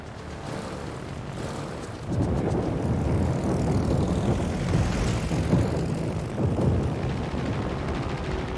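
Propeller aircraft engine drone from a naval warfare video game, a steady broadband roar that swells louder after about two seconds and holds, with no talk over it.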